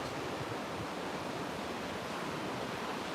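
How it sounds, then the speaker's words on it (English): Ocean waves wash steadily onto a Dominican beach on the Caribbean, a continuous broadband roar of surf mixed with breezy wind noise and no voices. "to hear the ocean and the waves"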